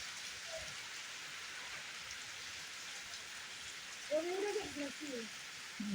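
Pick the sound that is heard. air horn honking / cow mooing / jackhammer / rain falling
rain falling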